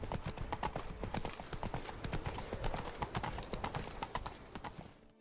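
Hooves of Roach, a horse in a video game, clip-clop in a steady, fairly loud rhythm that runs the whole way, and a voice can be heard briefly over the hoofbeats.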